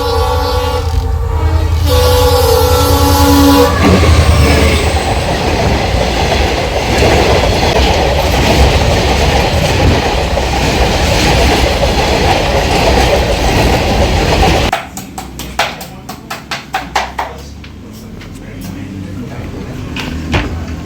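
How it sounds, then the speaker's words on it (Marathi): A train rolls past a closed railway crossing where vehicles wait, loud and continuous for most of the stretch with a horn-like tone at the start, then a sharper run of clattering wheel clicks as the last cars pass. "ट्रेन येते म्हणून फाटक बंद झालाय"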